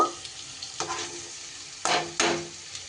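Soaked broken wheat (dalia) is tipped into a pan of oil with swollen raisins and green chilli over a low flame, giving a soft steady sizzle broken by a few scraping stirs and louder bursts of frying.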